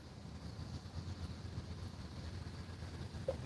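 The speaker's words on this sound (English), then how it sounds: "sounds like that train is turning." Distant train turning on rails, a faint low rumble and hum heard from far off in a quiet outdoor fishing spot, with a single small click near the end.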